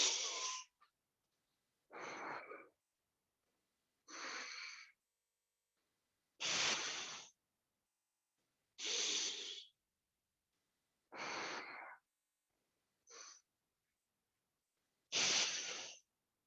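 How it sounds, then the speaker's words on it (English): Alternate nostril breathing in a yoga session, with eight separate airy, nasal breaths, each roughly half a second to a second long and spaced a couple of seconds apart by silence, close and fairly soft. "close your left, open your right nostril, breathe out from right"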